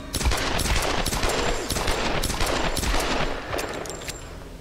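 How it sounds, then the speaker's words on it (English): Rapid automatic gunfire rattles in a dense, loud fusillade during Tomb Raider gameplay. The bursts overlap almost without a break for several seconds. "I'm about to start shooting."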